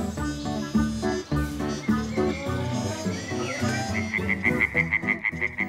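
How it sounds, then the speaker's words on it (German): Frogs calling at night in a jungle, with a steady series of short repeated croaks toward the end layered over a dense, continuous bed of night sounds and music. "Und nachts rufen paarungsbereite Froschmänner nach paarungsbereiten Froschfrauen."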